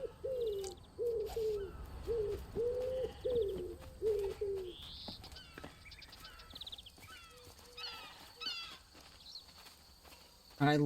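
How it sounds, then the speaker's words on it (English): Wildlife-game ambience with a pigeon's repeated soft cooing in a rhythmic series, followed by scattered chirps and light clicks from other birds, fairly quiet and spacious. "I love these bird sounds."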